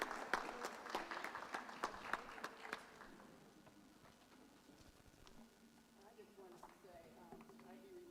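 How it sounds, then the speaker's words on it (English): An audience at a board of education meeting gives a round of applause, a dense patter of clapping for the first three seconds that thins out, followed by quieter room sound and faint voices. "Let's give them one more round of applause."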